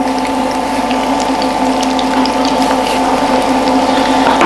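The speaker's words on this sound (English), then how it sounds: "I'm going to take them out and drain them." Fried chicken wings for salt and pepper wings are lifted out of hot oil to drain, with a loud, close, continuous sizzle and bubbling plus faint metallic clinks and no talk.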